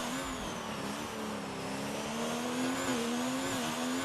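Race car in a sim racing game blasting down to turn 1 at the Canada circuit, a loud sustained engine whine with the pitch rising and shifting as it accelerates, heard alone without talk.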